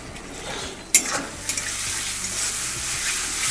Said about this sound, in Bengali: পেঁয়াজটাকে একটু লাল লাল করে ভেজে নিয়েছি আর এবার মশলাটা দিয়ে দিচ্ছি